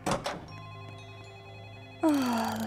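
A telephone ringing in a video game, a few sharp rings at the start and then a louder bell-like tone sweeping in near the end over sustained background music.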